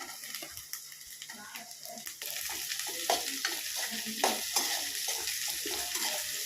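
Chopped onion and capsicum fry in a pan for pasta, a steady close sizzle broken by rhythmic scraping stirs that grow brisker midway.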